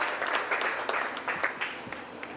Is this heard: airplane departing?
no